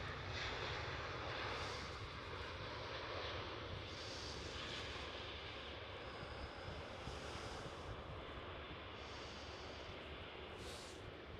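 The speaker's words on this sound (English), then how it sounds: "Let me not fully miss the British Airways Airbus A320." A British Airways Airbus A320 roars steadily at Schiphol Airport in Amsterdam, its jet engines giving a broad, sustained rumble that stays fairly even throughout.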